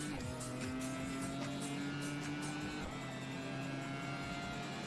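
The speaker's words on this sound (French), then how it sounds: "Accélération." A race car accelerating in the Grand Prix Challenge racing game on PS2, a steady engine whine with rising pitch, continuous and moderately loud throughout, with faint tire noise mixed in.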